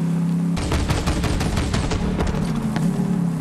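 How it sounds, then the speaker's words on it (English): Rapid gunfire-like bursts of a hydro rocket and flamethrower firing in Borderlands 3, a dense, loud crackling barrage that starts abruptly and continues steadily over a low engine-like hum. "That was a hydro rocket. And a flamethrower!"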